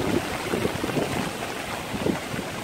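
Rain falls steadily on a street in Saigon, a dense continuous hiss with soft splashing textures, close and fairly loud, without voices.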